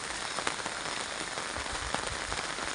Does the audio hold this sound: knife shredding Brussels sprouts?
no